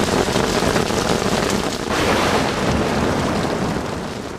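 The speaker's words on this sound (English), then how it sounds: "This sound of rain and its accompanying breeze sends many to sleep" Steady, loud rain falls with a breeze gusting over it, a dense, continuous wash that swells briefly near the middle and eases slightly toward the end.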